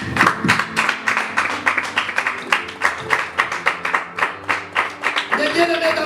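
A church congregation claps together in a steady, brisk rhythm of loud, close claps that runs throughout, with voices calling and singing underneath.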